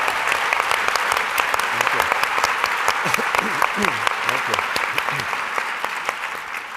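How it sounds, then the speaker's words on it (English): Sustained audience applause fills the room at a talk on polarization, dense clapping steady throughout while a speaker's voice breaks through briefly. "That deserves an applause."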